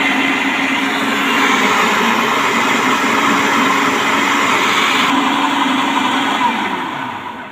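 Electric mixer or blender beating a cup and a half of sugar for cake batter, a loud steady whirring motor held for several seconds before winding down, with no talking.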